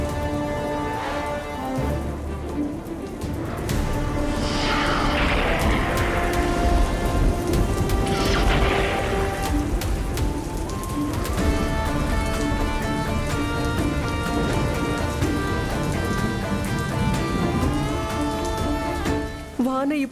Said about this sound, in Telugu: వాన ఇప్పుడంతా తగ్గే మాదిరి లేదు